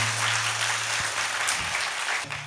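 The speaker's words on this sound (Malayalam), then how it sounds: "ഒന്ന് കൈയടിച്ച് ദൈവത്തിന് മഹത്വം കൊടുക്കാമോ" An audience claps together in a church gathering, a dense continuous burst of applause lasting a couple of seconds, steady and fairly loud with no speech over it.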